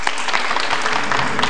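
A studio audience on a quiz show breaks into loud, dense applause, steady clapping filling the moment with no pauses.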